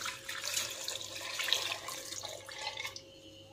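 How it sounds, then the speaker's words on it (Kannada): Water pouring into a bowl while cooking a dried-fish curry with field beans, a steady close splashing trickle for about three seconds before cutting off, with no talking. "ಇದು ಬೇಯೋದಕ್ಕೆ ನೀರನ್ನು ಸೇರಿಸ್ತಾ ಇದ್ದೀನಿ ಒಂದು ಬೌಲಲ್ಲಿ"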